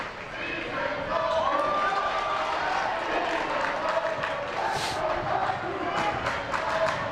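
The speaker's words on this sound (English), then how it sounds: "they get a nice round of applause from the Geneseo fields" Crowd at a high school boys' basketball game in Geneseo, Illinois, applauding two seniors, a diffuse, moderate wash of clapping and cheering under a commentator's voice, heard from the broadcast position.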